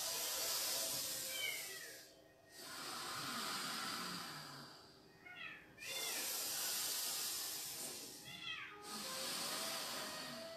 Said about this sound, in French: Je ne sais pas si vous entendez mes chats qui sont en train de miauler.